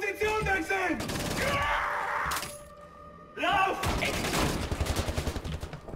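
Marksman rifle shots in Wolfenstein: The New Order, sharp cracks with shattering impacts and a rapid volley of shots at the end, mixed with combat noise and a voice speaking over it.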